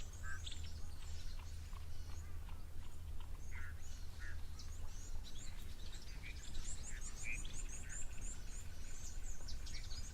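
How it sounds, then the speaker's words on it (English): Red-billed buffalo weavers chatter at an African waterhole, giving repeated chirps and squawky calls from somewhere nearby above a constant outdoor hiss of wind and insects, with no talking. "Can you hear the red-billed buffalo weavers chattering away?"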